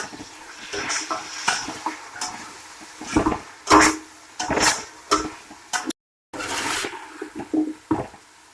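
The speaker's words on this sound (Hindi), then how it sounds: "लहसुन और अदरक के बाद चिकन डाल रही हूँ।" Chicken pieces tipped into a hot pan over garlic and ginger, loud close sizzling and frying in uneven bursts with stirring clatter, a brief dropout partway through.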